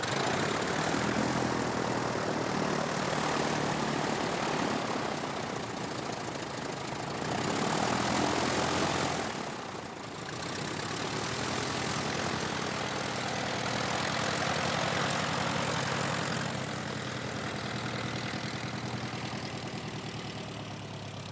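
A small propeller trainer aircraft flies under test by a test pilot, its engine droning steadily and fairly loud throughout, swelling briefly near the middle and ebbing slightly toward the end, with no voices.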